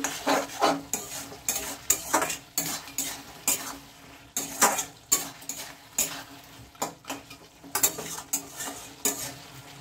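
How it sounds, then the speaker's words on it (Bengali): A spoon stirs garam masala into a rohu fish head and jackfruit seed curry in a metal pot, in repeated scraping, clinking strokes with short pauses over a soft sizzle. "গরম মশলাটাকে একটু নেড়ে চেড়ে ভালো করে সব জায়গায় মিশিয়ে দিচ্ছি"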